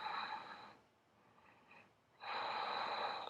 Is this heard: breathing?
yes